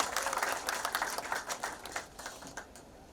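An audience applauding after a speech at an inauguration event for a semiconductor manufacturing facility, a steady patter of many hands clapping that fades gradually over a few seconds, moderately near.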